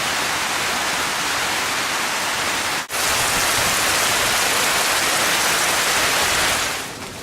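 Heavy rain pours steadily and loudly at a trailhead on Kauai's Kalalau Trail, a dense unbroken hiss with a brief dropout near the middle and a slight fade at the end.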